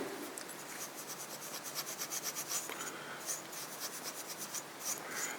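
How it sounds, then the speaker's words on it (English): Steel wool rubbing over a soft plastic part to deburr it, a quiet, steady rhythmic scratching with repeated short strokes, close up and alone. "steel wool, which works good for deburring kind of soft plastics like this"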